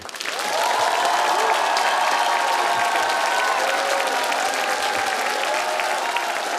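Thick, even audience applause fills a comedy show hall, rising quickly and holding steady and loud, with a voice faintly heard over it.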